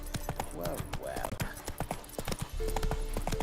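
Horse hooves clip-clopping in The Witcher 3, a quick run of close, sharp hoof knocks with a brief whinny, under a voice in a wedding party scene.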